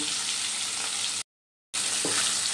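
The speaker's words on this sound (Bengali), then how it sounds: "সব মাছগুলো একটু উল্টে পাল্টে ভেজে নেবো।" Fish fry in hot oil in a pan with a steady, dense, loud sizzle that fills the clip, broken by one short silent gap, with no talk.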